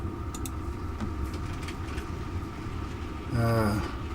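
A model train runs on a railway layout with a steady, faint mechanical hum and clatter, joined near the end by a short, louder whining tone.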